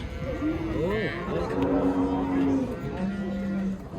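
Dairy cows at a livestock market in Kyzylorda low repeatedly, long drawn moos rising and falling close by, sounding under steady chatter of people bargaining over prices.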